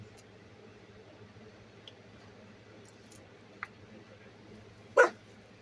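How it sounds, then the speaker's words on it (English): One sharp dog bark near the end stands out over a quiet room background, preceded by a couple of faint short sounds. "That's my grandson's dog."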